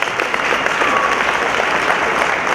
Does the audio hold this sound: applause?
yes